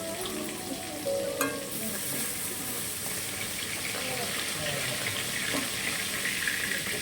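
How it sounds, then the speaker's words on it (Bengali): Magur catfish frying in a hot pan, a continuous hissing sizzle with occasional clinks and water-like noise, heard close and without speech. "মাছটা কিন্তু আমার ভাজাও হয়ে গেছে দেখতে দেখতে।"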